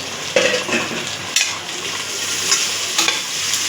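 Two tomatoes fry with onions in a pan for chicken biryani, making a steady sizzle broken by a few sharp spatula scrapes and clacks, close and loud, with no talking.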